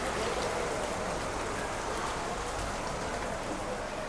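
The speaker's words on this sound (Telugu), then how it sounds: "చూడండి, మీకు చూపిస్తా వాన ఎంత స్పీడ్ పడుతుందో." Heavy rain pours down at a railway station beside the Padmavathi Express, a loud, dense and unbroken hiss of falling water.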